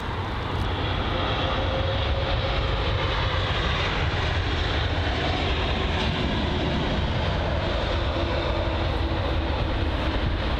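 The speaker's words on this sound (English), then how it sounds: "So it's the Virgin Atlantic A330-300" A Virgin Atlantic Airbus A330-300 arrives at London Heathrow from Tel Aviv, its jet engines giving a steady, loud, broad roar that holds unbroken throughout.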